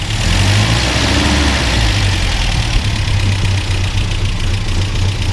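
A 1966 MG MGB Roadster engine idles while still cold with the choke partly off, producing a steady, close, low rumble that holds evenly throughout.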